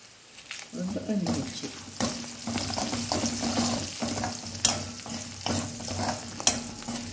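Onions and dried red chillies frying in oil as a tempering, stirred in the pan: steady close sizzle with scraping stir strokes and occasional clinks, no talk over it.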